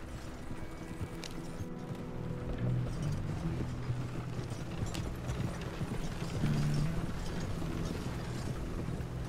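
Horse hooves clip-clop at a steady riding gait in the video game Red Dead Redemption 2, with faint mechanical rattles of tack underneath and no talking.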